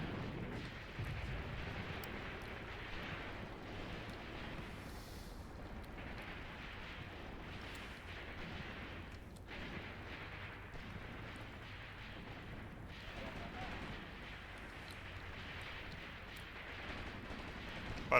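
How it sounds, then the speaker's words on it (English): Mortar and artillery blasts rumble through a World War II battle in the tank game Graviteam Tactics, a continuous low roar of distant explosions with scattered sharper booms, fairly faint and steady throughout. "those mortars are still annoying me"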